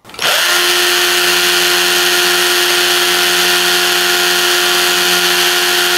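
A Parkside PBHA 12 A1 cordless SDS-plus hammer drill spins up fast and runs loud and steady close by, a constant high whine with a strong tonal hum, held without pause and with no talk.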